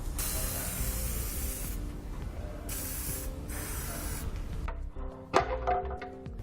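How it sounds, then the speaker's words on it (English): Spray lubricant hisses from an aerosol can onto rubber muffler isolators behind the tailpipe of a 2018 Kia, in several loud bursts separated by brief pauses, then handling clatter. "I'm just going to take a little bit of spray lubricant, spray them down"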